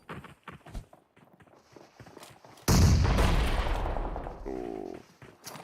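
In a battle royale game, a close grenade blast erupts after scattered quiet shots and footsteps, followed by a decaying roar and crackle of gunfire.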